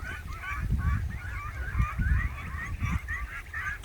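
Large flock of domestic ducks in a harvested rice field in Thailand, a dense continuous chorus of overlapping nasal quacks and honks, steady and moderately near with no voices.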